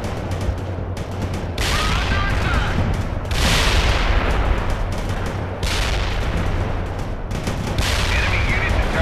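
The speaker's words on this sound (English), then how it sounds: "Heavy artillery barrage inbound." Heavy artillery barrage in the video game World in Conflict: repeated booming blasts and rattling gunfire fill the battlefield, coming in loud, dense waves every couple of seconds over a constant low rumble.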